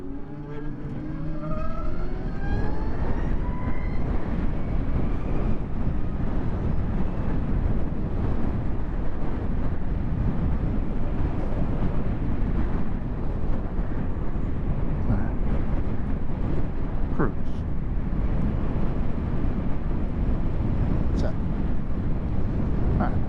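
Riding a 2023 Zero SR electric motorcycle on the road in a strong crosswind, the wind buffets the microphone as a constant loud roaring rush, with a rising motor whine at the start and someone talking over it.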